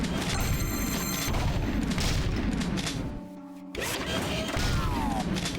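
Rapid scatter gun fire in the Jak II finale, a steady stream of loud booming shots with mechanical clatter, briefly cutting out near the middle before resuming.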